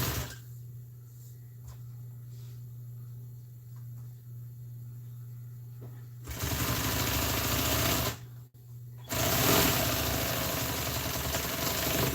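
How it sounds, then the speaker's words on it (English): An electric sewing machine stitching a seat cover together runs in a loud continuous whir, starting after a quiet stretch with a low hum, with one brief pause before resuming close up. "I'm just going to sew it together right here."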